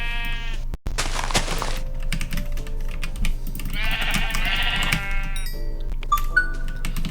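Sheep in Minecraft Legacy Edition bleat in short, clear game calls, two or three in turn, over a steady low background hum, with clicks of key or controller input in between.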